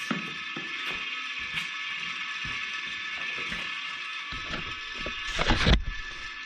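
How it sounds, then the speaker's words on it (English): A hand-operated Maint-Evac vacuum pump on a log splitter gives repeated mechanical clicks and ratcheting strokes, fairly faint and close, ending in a brief louder rush near the end. "You can always pump it a little more. Create a little more vacuum."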